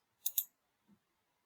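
A computer mouse gives a quick double click, then a faint softer tap, all in near silence.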